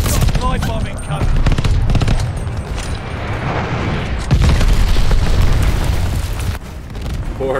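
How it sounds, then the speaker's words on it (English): Video game combat on a World at War style map, with dense, loud booming explosions and rapid gunfire rolling almost continuously, heavy low rumble throughout, and a voice talking over the battle. "Enemy drop live bombing coming."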